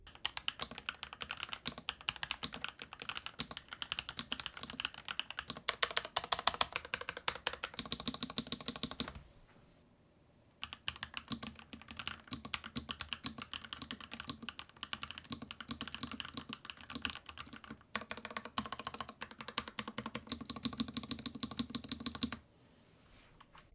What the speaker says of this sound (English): after typing on the keyboard straight on the desk is that the sound profile is a little louder